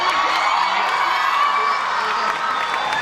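A large convention hall crowd at a Spider-Man panel cheers and screams continuously, a dense roar of shouting and whoops that holds steady for several seconds.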